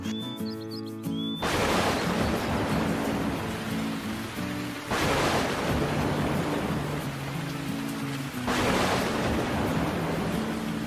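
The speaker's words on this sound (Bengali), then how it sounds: "এত জোরে ঝড় শুরু হলো যে? মনে হচ্ছে খুব ভারী বৃষ্টি হবে।" Strong storm with heavy rain, a dense roaring downpour building in three loud surges, each swelling like a gust-driven burst, with no voices.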